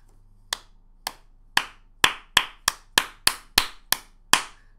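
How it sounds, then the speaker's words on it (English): A small group claps in sparse, separate bursts: about eleven sharp, close claps, hesitant at first and then quicker and more regular, with quiet gaps between them. There are no cheers or voices. "listen to the applause here"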